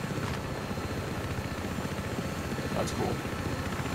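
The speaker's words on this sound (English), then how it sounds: "But dude, I'm getting in a helicopter." A helicopter in the video game Battlefield 3 gives a steady low rotor drone that runs through the whole moment, with a player talking briefly over it.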